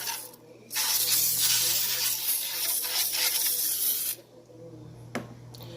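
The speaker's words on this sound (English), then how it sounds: "I'm just going to be using this Palm avocado oil to coat the bottom, to grease the bottom of the pan" A can of avocado oil cooking spray hisses in one steady burst of about three seconds to grease the bottom of a pie pan, followed by a quiet pause and a small clink.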